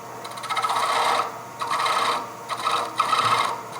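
Saw cutting a piece off a wooden turning blank for jewelry, heard as close, steady rasping strokes in several bursts with brief pauses between them.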